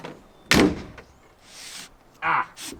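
A car door shuts with a solid thunk, followed by a second softer thud a moment later, close by with quiet rustling in between, in a cramped small European car.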